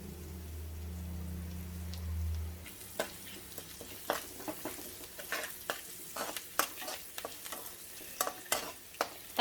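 Turmeric is stirred into a tempering in a pan for Telugu-style tempered rice. After a low hum, a quiet sizzle carries sparse crackles and spoon scrapes in an irregular rhythm, with no talking.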